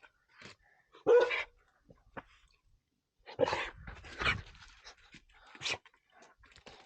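A dog barks in short bursts and pants heavily at close range, with scattered sniffs and breaths between the louder yelps and no talk over it.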